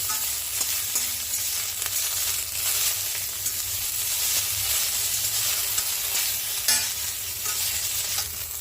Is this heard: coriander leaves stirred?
yes